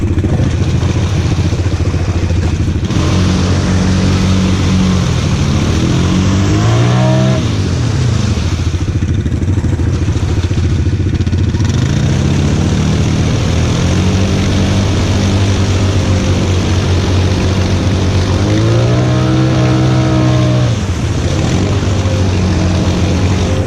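A Honda Foreman 500 ATV on new Mud Puppy tires digs through mud in two-wheel drive, its engine loud and close, revving up and down in repeated surges.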